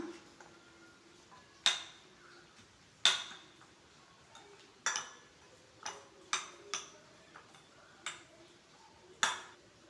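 Onion pickle being stirred with vinegar in a bowl, a spoon clinking sharply against the dish in scattered, separate taps, fairly quiet with no talking.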